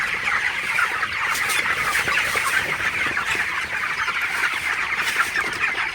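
Broiler chickens crowd a poultry shed in intense summer heat, a dense, continuous chorus of clucking and murmuring from many birds at once, close and steady throughout.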